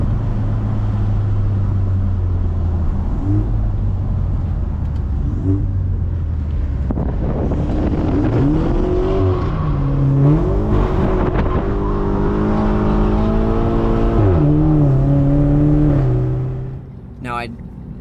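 A BMW B48 engine revs on a DynoJet dyno, its pitch climbing in repeated rising pulls and dropping between them, loud and close, then cutting off near the end; a voice talks over it.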